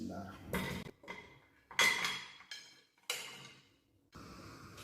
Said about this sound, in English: I'm going to put them in the pressure cooker now